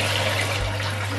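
Water runs steadily into a kitchen sink as plates are washed, a close continuous gushing stream with a faint low hum beneath and no voices.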